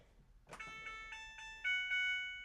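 A home washing machine plays its short electronic chime melody: a sequence of bright, clear beeping tones rising to a sustained final note, close and alone after a soft click.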